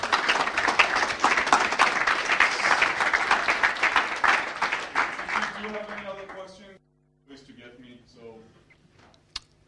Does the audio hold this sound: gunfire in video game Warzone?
no